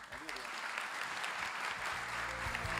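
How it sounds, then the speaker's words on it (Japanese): Audience applause fills a conference main stage at a Web3 and NFT event in Tokyo, a steady broadband clatter of many hands sustained for a few seconds, with faint voices mixed underneath. "このお二人に大きな拍手をお願いします。"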